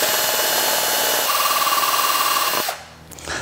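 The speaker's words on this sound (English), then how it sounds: "Now that our holes are drilled" A power drill whirs steadily through pipe with a grinding edge while drilling holes, then stops abruptly and spins down.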